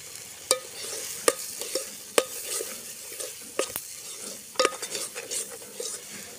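Chicken masala being sautéed in oil in a pan, a steady sizzle with the spatula scraping and stirring in irregular, sharp clacks against the pan. No one speaks.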